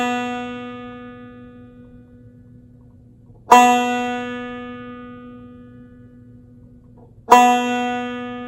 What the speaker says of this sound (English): Your second string is a B, and it sounds like this.